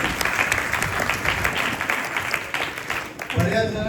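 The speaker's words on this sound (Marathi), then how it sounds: "टाळ्या वाजवा बघू." An audience at a kirtan gathering at Shriram Ashram, Didigad, Sonale, claps in steady, close applause for several seconds, which thins toward the end as a voice comes in.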